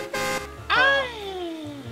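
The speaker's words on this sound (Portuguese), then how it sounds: "A buzina!" A car horn honks once in GTA RP gameplay, a short, steady blast, followed by a loud exclaiming voice with a falling pitch.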